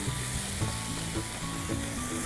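Tomato and onion mixture sizzling and frying in a pan, a steady close hiss with soft bubbling and faint stirring, continuous and without talk.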